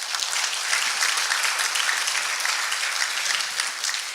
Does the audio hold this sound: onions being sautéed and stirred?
no